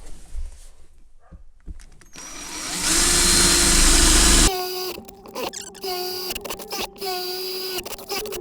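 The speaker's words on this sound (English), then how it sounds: "we'll chain drill here and here and see if we can get in." A power drill chain drilling through a security part on a Land Rover Defender TD5, heard as a loud, steady grinding burst followed by shorter whining drill runs with pauses between them.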